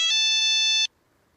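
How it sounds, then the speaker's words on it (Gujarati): A phone rings with an incoming call in an old village home: a single loud electronic ring tone, steady and bright, lasting under a second before cutting off into quiet. "એટલે ફોન આવ્યો આમાં."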